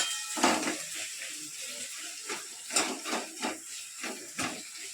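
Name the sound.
onions frying in oil in a kadai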